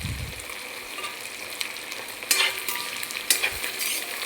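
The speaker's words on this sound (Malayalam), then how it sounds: "അതിനുശേഷം വെളുത്തുള്ളി അതിൽ എണ്ണയിലേക്ക് ഇടുക." Garlic sizzles and crackles steadily in hot oil for a Kerala-style fish pickle, with a couple of louder bursts of spitting and stirring scrapes partway through, close and continuous with no talking.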